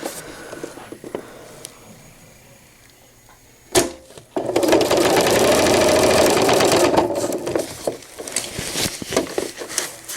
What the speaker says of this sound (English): I'm just going to go forward and then do a little back stitch